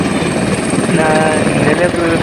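A tourist helicopter on a 30-minute ride over Tirunelveli gives a loud, steady, close rotor and engine drone throughout, with a voice talking over it.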